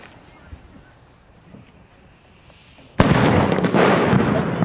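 Fireworks going off outdoors at a New Year's celebration: after a quiet stretch with faint distant pops, a sudden loud blast is followed by a continuous dense roar of crackling bursts.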